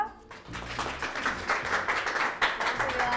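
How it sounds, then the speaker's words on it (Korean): A studio audience at a lecture show claps to welcome a former KIST researcher to the stage, a moderate scattered round of applause rising after a brief quiet start, with some voices underneath. "박사님을 큰 박수로 자리에 모셔볼게요"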